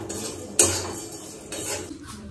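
A metal spatula clanks and scrapes in a pan while flattened rice is fried with coconut and peanuts, a few sharp close knocks between softer stirring scrapes, with no talk.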